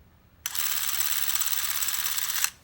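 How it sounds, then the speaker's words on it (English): The shutter of an 8mm film camera is held down to advance film by hand, giving a loud continuous mechanical whirring buzz that starts abruptly and runs about two seconds before cutting off cleanly. "I'm going to advance the film using my finger on the other side of the camera to press the shutter button"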